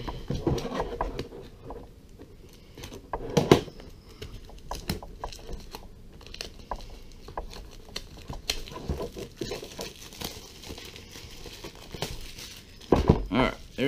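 Plastic wrap crinkles and tears in irregular bursts as it is pulled off a box holding a Baby Hawk R Pro drone, with sharp crackles scattered over about fourteen seconds of close handling.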